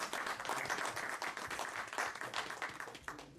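An audience at a literary event claps for an author in a dense, fairly quiet round of applause that carries on steadily before easing off at the end.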